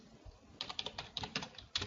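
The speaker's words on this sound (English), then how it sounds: "if I just start typing" Keys clatter on a computer keyboard in a quick, uneven burst of close, crisp taps, heard alone with no talking.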